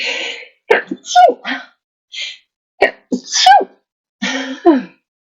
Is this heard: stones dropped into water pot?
no